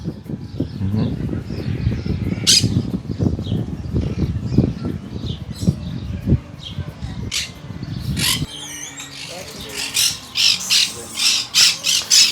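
Birds in a collection at Eko-Park Piešťany, Slovakia, squawk and call loudly and repeatedly, close by, with sharp shrill cries. Low murmuring talk and bustle sit underneath for most of the stretch before the calls carry on alone.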